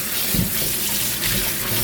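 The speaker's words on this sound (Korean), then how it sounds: "메밀을 삶아가지고 이제 이렇게 찬물에 씻어줍니다." Boiled buckwheat noodles are rinsed under a cold running tap. Water pours loudly and steadily into the sink, with soft splashing as the noodles are moved by hand.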